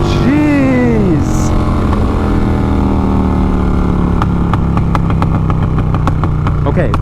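A Harley-Davidson 131 motorcycle with a 150 hp engine and loud exhaust rumbles steadily, a rising tone at first, then a series of sharp exhaust pops crackling near the end; a voice briefly speaks over it at the start.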